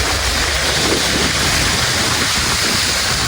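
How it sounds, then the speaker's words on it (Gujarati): Floodwater rushes through a village after heavy rain, making a loud, constant roaring wash of water with no breaks and no voices. "પાણી પાણી આવે છે મિત્રો"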